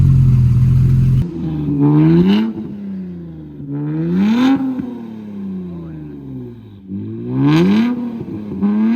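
A Nissan Z fitted with upgraded Panda turbos and new exhaust revs hard three times, each rising wail climbing and falling back to a rumbling idle, loud and close with no talk.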